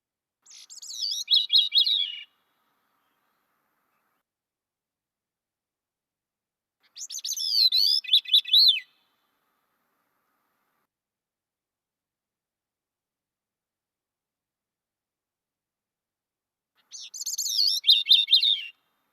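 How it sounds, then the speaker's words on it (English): Three separate song phrases from a gray-cheeked thrush, each a clear, high, fluting spiral that slides downward, with long silent gaps between them. "Gray cheek thrush has a song similar to that of the Swainson thrush"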